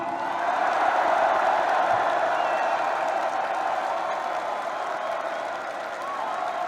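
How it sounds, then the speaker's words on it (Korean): A large crowd at a National Revolutionary Party political rally cheers and applauds continuously, a dense roar of voices and clapping that swells slightly and then holds steady. "우리 국가혁명당 제20대 대통령 후보 허경영 당 대표님, 여러분 큰 목소리와 함성으로 축하의 응원을 부탁드리겠습니다."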